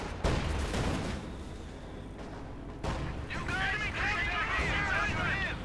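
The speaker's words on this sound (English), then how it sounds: "Another artillery barrage." An artillery barrage in the strategy game Company of Heroes 2, with deep booming blasts and rumbling impacts under steady commentary from a caster.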